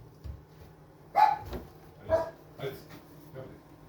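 A few short barks from a dog, spaced apart and moderately loud, over a quiet background hum.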